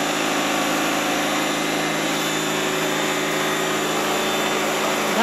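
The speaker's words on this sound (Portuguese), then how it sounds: "Tá uma zoada que é do jato." A pressure water jet runs steadily while washing a kitchen stove, giving a loud, continuous motorized whine and hiss that holds unchanged throughout, close by and alone.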